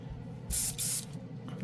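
An airbrush sprays thinner to flush out paint between colors, giving two loud hissing bursts of about a quarter second each, separated by a brief pause, with quiet moments before and after.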